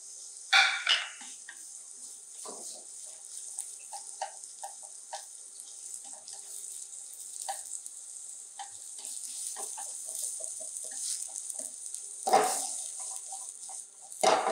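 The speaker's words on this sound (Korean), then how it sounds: "저는 야채들 볶을게요" Sliced carrot, onion and mushroom stir-fry in a pan for yaki udon, a steady bright sizzle with scattered clicks of stirring and a few louder bursts when the food is tossed, close by.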